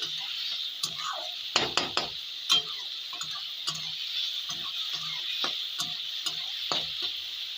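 Beef curry (kosha mangsho) stirred in a pan, giving a steady faint sizzle broken by a series of scraping, clinking spoon strokes against the metal.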